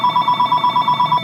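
A telephone rings in a fast, even warbling trill, loud and close, repeating in regular pulses with no talking.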